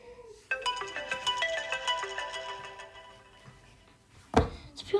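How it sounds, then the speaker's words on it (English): Apple's default ringtone plays as a bright, repeating synthesized melody of quick chiming notes for several seconds, fairly quiet and alone, ending with a short knock or thunk. "that's the ringtone."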